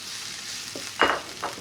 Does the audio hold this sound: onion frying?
yes